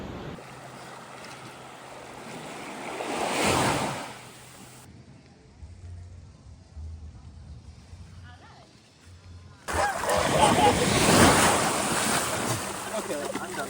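Ocean waves wash onto a beach in Puerto Rico in loud, rushing swells that rise, fade and surge again, with wind buffeting the microphone and people talking nearby.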